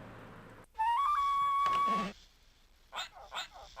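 A rising, stepped cartoon whistle from the 1997 Living Books game Arthur's Reading Race, loud and alone for just over a second, followed by a burst of noise and faint speech.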